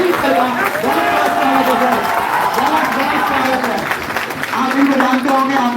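An audience at a coaching academy applauds to welcome a new teacher, a sustained bed of clapping running under a voice speaking over it throughout.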